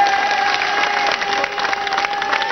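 A TV studio audience applauds for Sylvie Vartan, a dense, even patter of many hands clapping continuously, fairly close, with a faint tonal hum running underneath.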